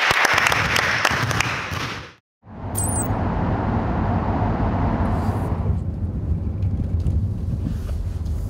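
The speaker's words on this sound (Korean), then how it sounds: "박수 한 번 해," A group claps together in a steady, dense burst of applause, breaks off for a brief moment of silence, then resumes and carries on loudly, with no voices heard.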